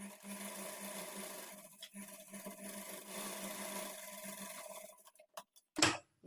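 A sewing machine runs steadily for about five seconds, stitching an edge seam on a blouse lining waistband, with a constant motor hum. It then stops, leaving a few sharp ticks and a louder clack at the end.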